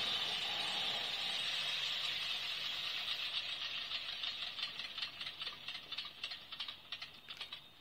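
A simulated radial aircraft engine sound on a 1/32 scale AT-6 Texan model drones steadily, then slows into uneven chugging pulses as it winds down, fairly faint and alone.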